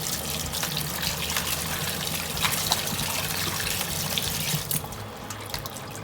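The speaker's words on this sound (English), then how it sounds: "Now I'm using a little bit of hot water." Hot tap water runs steadily while raw meat is rinsed in a sink, a continuous close gushing trickle with slight splashes, easing off near the end, with no voices.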